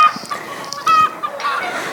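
A flock of backyard hens cackling loudly after one has laid an egg, with overlapping squawks and clucks rising and falling throughout, close and busy, with no talking.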